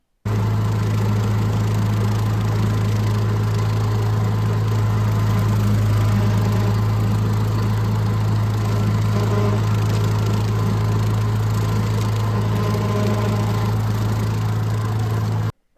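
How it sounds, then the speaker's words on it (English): A used riding lawn mower engine runs steadily and loud from start to finish, a close, constant droning hum with a strong low throb and no speech. "still have a working mower"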